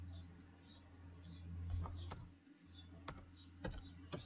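Quiet computer keyboard typing comes in scattered clicks and short bursts over a steady low hum from a PC.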